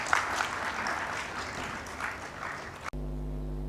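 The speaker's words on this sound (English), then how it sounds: "I believe Professor Suruma deserves a much more rousing applause." Audience applause after a speech at a national social protection dialogue: steady, full clapping from a seated crowd that runs nearly three seconds, then stops abruptly and leaves a low electrical hum.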